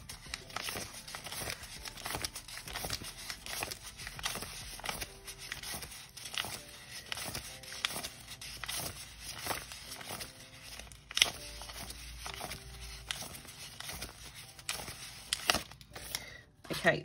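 Paper banknotes, twenties, crinkle and rustle softly as they are handled and stuffed into cash envelopes, with repeated close crisp crumpling and tearing-like sounds, quiet overall, with intermittent talking.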